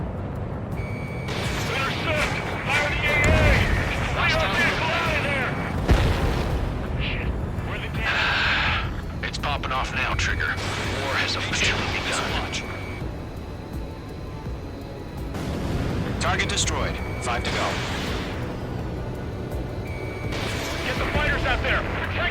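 Ace Combat 7 battle with anti-aircraft gunfire and explosions: repeated booms and bursts of fire over a continuous roar, with shouted radio voices talking throughout.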